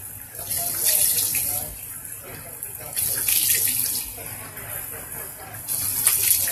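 Tap water runs into a sink as face wash is rinsed off with lukewarm water, a steady hiss with splashy surges that rise and fall from hand movements. Faint talk sits underneath.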